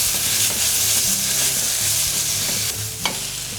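Tomato concentrate stirred in a frying pan, a steady sizzle with scraping spoon strokes throughout, near and fairly loud, one sharper knock near the end.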